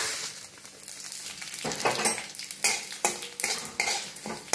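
Shahi jeera dry roasting in a pan: a spoon stirs and scrapes repeatedly, and the seeds rustle and crackle in close, uneven bursts.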